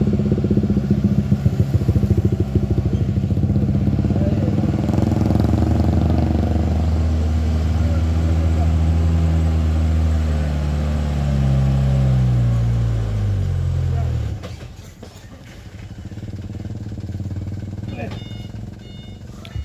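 A heavily loaded truck strains up a steep climb at Batu Jomba, its engine laboring loudly with a pitch that sinks as it bogs down, then cuts out abruptly, leaving quieter rumbling and clatter.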